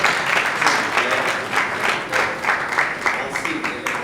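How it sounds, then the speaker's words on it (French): Audience applause at a live comedy show featuring a comedian, sustained dense clapping across the whole stretch with steady loudness and some talk faintly mixed in. "Est-ce qu'on peut applaudir, s'il vous plaît?"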